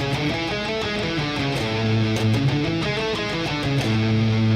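Electric guitar running through a scale pattern, a quick sequence of single notes stepping up and down with sustained tones, close and continuous with no talking.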